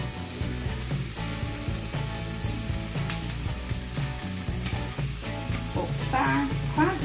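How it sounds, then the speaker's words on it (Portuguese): A hamburger patty dropped into a preheated frying pan, a loud continuous close sizzle with rattling, clattering handling of the pan throughout and no talking. "nossa frigideira já está aquecida. Nós vamos jogar aqui o hambúrguer"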